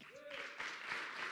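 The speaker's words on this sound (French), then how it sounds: "Ils te donnent une clap d'applaudissements." An audience applauds to welcome a speaker at a French-language evening event, a brief burst of clapping that rises quickly while a voice speaks over it.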